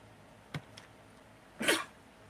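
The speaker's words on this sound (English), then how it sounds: "I gotta sneeze." A person sneezes once, loud and close, after a couple of small sharp breathy catches beforehand; no talking is heard.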